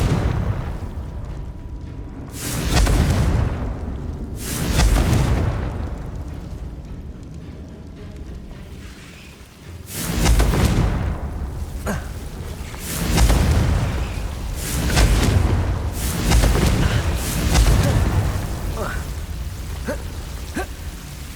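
Confringo explosion spells in Hogwarts Legacy boom repeatedly, about eight loud blasts spaced a couple of seconds apart, each a deep burst trailing into crackling debris over background game ambience.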